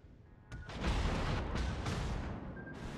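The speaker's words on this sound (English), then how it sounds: "And now I'm gonna eat some torpedoes." Torpedo hits on a warship in World of Warships: a heavy, rumbling blast swells after a sharp onset and keeps roaring loudly, with a second surge partway through.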